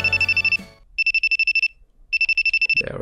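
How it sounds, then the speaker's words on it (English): A phone ringtone trills from the visual novel Amatsutsumi, three bursts of rapid electronic pulses separated by short pauses, loud and clean, opening with a brief musical tail and ending in a faint rustle. "Then I realize it's just the sound of a phone. Since it doesn't stop after one repetition, it means someone's calling me."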